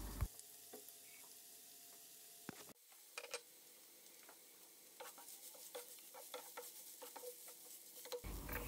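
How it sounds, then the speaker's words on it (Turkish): Ground meat fries in a pan while being stirred, a quiet steady sizzle with light, scattered spoon scrapes throughout and no one speaking. "Evet, kıymayı tane tane olana kadar karıştırarak kavuruyorum."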